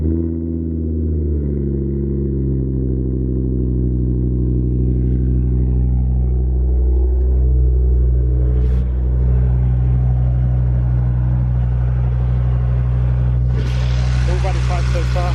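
A Ford Focus RS with an ST225 turbo conversion rated at 380 bhp idles with a deep, steady, loud rumble, ending in a brief hiss.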